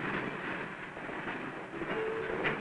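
A 1950s freight train runs steadily close by, its broad rolling rumble and wheel noise continuous throughout, with a faint squeal rising briefly near the end.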